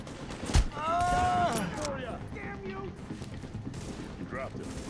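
Gunshots in Tom Clancy's The Division: a sharp shot, then scattered bursts of gunfire behind game voices and chatter, with softer distant shots trailing off.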